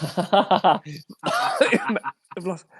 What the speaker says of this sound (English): I've coughed.